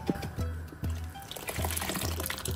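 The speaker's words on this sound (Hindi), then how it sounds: "हमारे जो कुकर में हमारा गंदम है उसके अंदर पानी चलाएंगे" Water poured into a pressure cooker holding wheat for mutton hareesa, a splashing, filling pour heard in a few bursts with brief pauses, close and moderately loud.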